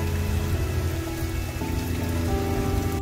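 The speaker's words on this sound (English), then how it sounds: "From extreme heat, it started raining" Rain falls outdoors after extreme heat, wetting everything. There is a dense, steady patter of drops on surfaces, close and even throughout with no voices.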